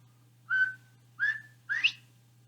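Three clear whistled notes mimic a bobwhite quail call, the last one sliding upward, with short pauses between them over a faint low hum.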